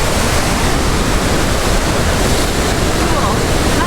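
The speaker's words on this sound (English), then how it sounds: "So right after here it speeds up a lot. And from here the rapids are brutal." Fast, churning river rapids just below a constricting dam at Spokane Falls, a loud, steady broadband roar of rushing water filling the whole clip with no pauses.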